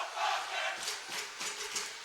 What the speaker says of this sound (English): That Falcon cheering squad immediately to my right as the young people in that section all stand and make plenty of noise